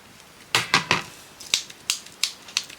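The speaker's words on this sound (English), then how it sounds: "Snip that a little bit off." Scissors snip thin lace for a shabby lace frame, a quick pair of close crisp cuts followed by several single snips spaced about half a second apart.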